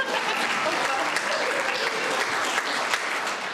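Steady audience applause at an interview event, a dense, continuous wash of many hands clapping at close range with no pauses, holding at an even level throughout.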